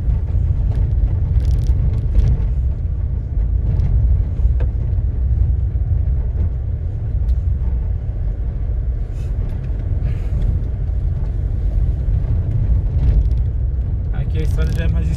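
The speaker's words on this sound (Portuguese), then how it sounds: "ele falou que era o caminhão do gás" Butane gas delivery truck rolling past on a narrow rural road, a steady low engine and tyre rumble running throughout at moderate distance, with brief brake-like hisses near the end and people talking over it.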